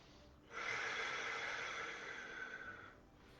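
A single long, steady breath drawn in during a French-guided yoga meditation, lasting about two and a half seconds, close and soft with no talking.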